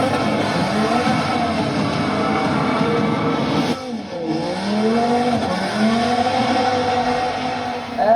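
A Dodge Viper drift car drives hard, its loud engine rising and falling through gear changes with a brief dip and tire squeal, heard close and continuous throughout.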